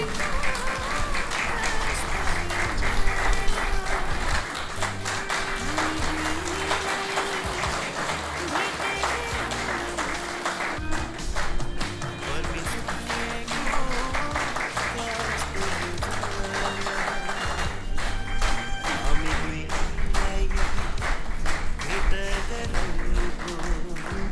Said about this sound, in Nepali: ताली बजाउँदाखेरि